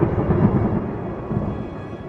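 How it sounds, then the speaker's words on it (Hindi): A low thunder rumble from dark clouds as a storm gathers, a deep continuous roll that is loud at first and slowly fades over about two seconds. "बादल घर्राने लगते हैं।"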